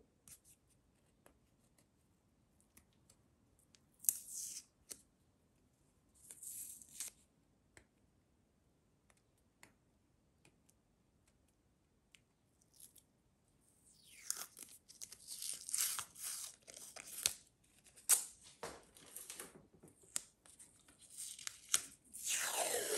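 Small snips and tearing sounds come from cutting a short piece of washi tape, quiet and sparse at first, then a denser run of close crinkling and scratching near the end.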